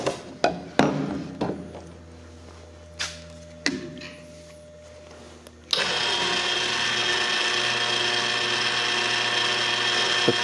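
Tail of a Cessna Skywagon being raised on a jack, a few sharp ratcheting clicks and knocks in a quiet hangar, then a steady loud mechanical whirr of the lifting mechanism that runs to the end.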